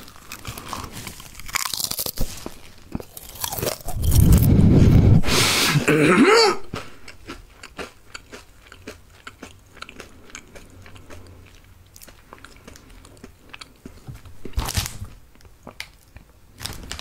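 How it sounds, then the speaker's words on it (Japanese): Koala's March biscuits are bitten and chewed close to the microphone in an ASMR setting, with a burst of loud crunching in the middle and then softer, scattered crunchy mouth sounds and small clicks continuing afterward. "なんか久しぶりに咀嚼音聞くとやっぱいいね。"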